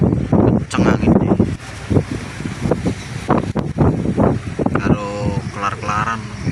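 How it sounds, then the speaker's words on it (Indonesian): Strong wind buffets a boat on a rough sea with big waves, roaring and gusting against the microphone throughout while people talk loudly over it. "Gelombangnya lumayan besar, anginnya kencang anginnya."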